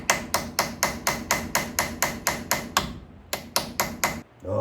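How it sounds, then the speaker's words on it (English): Steady metal-on-metal hammer blows drive a chisel into a Coleman 4x4 front axle during a teardown, about a dozen sharp evenly spaced strikes, a short pause, then four more, loud and close with no talking. "Bottoming out this chisel on this thing."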